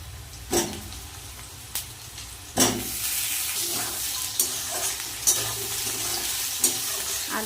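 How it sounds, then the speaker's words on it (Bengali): Cut potatoes and lightly fried onion sizzle in a pan, with a few sharp stirring clatters and a louder burst of frying as more pieces go in, the sizzle continuing steadily and close. "এবার দিয়ে দেবো কেটে রাখা আলু।"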